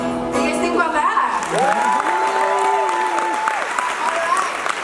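Applause from a keynote audience at a professional conference fills the room, with a tonal melodic sound, likely music or a voice, running over the steady clapping throughout.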